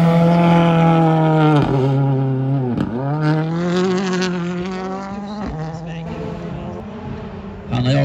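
A Ford Fiesta Rally 2 rally car pulls away at a Swedish championship final, with a buzzing, high-revving engine that drops sharply at several gear shifts and slowly fades, while a voice talks faintly.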